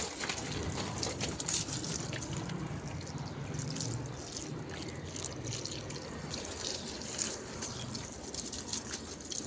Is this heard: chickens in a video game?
no